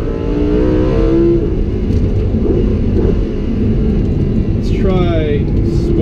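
A Lamborghini Huracan, driven on a figure-eight course in Corsa mode, revs hard toward redline. Its close, loud engine note climbs in pitch, eases off, then surges upward again during a downshift.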